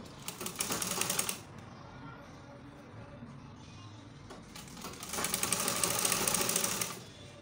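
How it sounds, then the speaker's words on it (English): Sewing machine stitching a halter neck collar for a baby girl's dress, two short runs of close, buzzing stitching separated by a few seconds of quiet room tone. "I'll go ahead and sew it like so."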